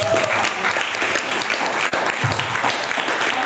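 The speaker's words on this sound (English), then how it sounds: "Let's give her a round of applause" A crowd claps loudly and steadily after a spoken word performance at a live Shapers Network Africa event, the close, dense applause running unbroken for several seconds.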